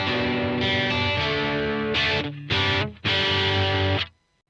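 An Ibanez EX-370 electric guitar through its neck humbucker pickup rings out sustained, distorted chords, then a few sharper strummed chords with short gaps, ending in a quick fade to silence.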